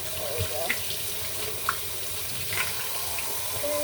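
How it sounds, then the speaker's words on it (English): Tap water running steadily into a stoppered kitchen sink, a continuous splashing hiss with a few clinks of dishes, close up and moderately loud. "I'm going to let the water run and put the soap in."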